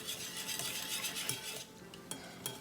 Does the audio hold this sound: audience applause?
no